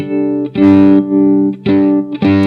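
Electric violin played through an amp IR pedal with distortion, loud sustained bowed notes in three phrases with short gaps, gritty and buzzing.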